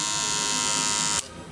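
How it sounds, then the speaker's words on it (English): A loud, steady electric buzz comes from a repaired Wahl Cordless Senior cordless hair clipper running close by, then cuts off abruptly near the end, leaving only faint room noise. "This is a working cordless senior now."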